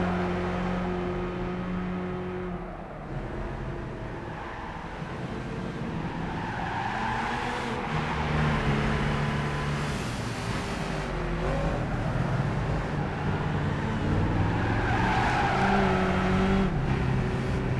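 Mercedes C63 V8 sedan racing in Gran Turismo 5, its big V8 droning steadily with rising and falling engine tones, shifting pitch through gears and occasional tire squeal, loud and continuous throughout.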